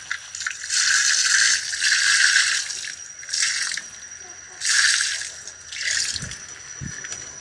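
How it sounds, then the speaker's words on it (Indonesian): Water is poured over grafted cassava stems, coming in several separate gushes with short pauses between them, fairly close. A couple of soft knocks follow near the end. "Lalu kita siram."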